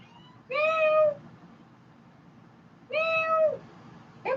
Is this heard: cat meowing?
yes